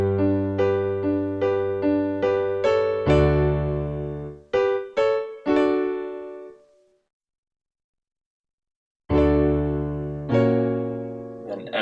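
A piano plays a show tune's chord progression, with repeated struck chords in a steady rhythm, a few separate hits, a decaying silence, then further chords, clear and close with no talking.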